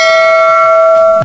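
A single bright bell chime rings out loudly and sustains evenly for about a second before cutting off, alone with no other sounds.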